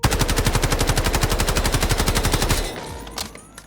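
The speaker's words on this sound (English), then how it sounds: "just basically hold the trigger down and let it rip" Automatic rifle in the video game Delta Force fired full-auto in one sustained burst, a rapid, steady, loud rattle of shots for about two and a half seconds, then cut off into a fading echo and faint rustle.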